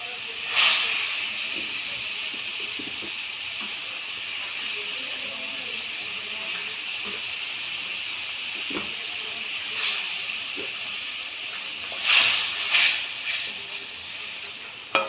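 A pan of fish curry simmers steadily, a soft continuous bubbling hiss, with a few sharper clinks and stirs near the start and toward the end.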